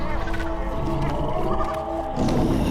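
A lion roars in a horror cartoon set in a haunted forest: a sustained, rumbling growl that runs loud and steady through the clip and swells again near the end, layered over other eerie wild-animal noises.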